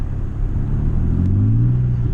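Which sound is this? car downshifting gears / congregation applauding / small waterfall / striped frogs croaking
car downshifting gears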